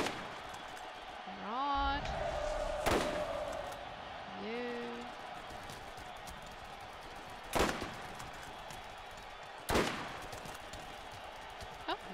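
Gunfire in the Borderlands video game during a gun wave in Moxxi's Underdome Riot at The Gully: sharp isolated shots cracking out every few seconds over a steady game background, with brief electronic tones early on.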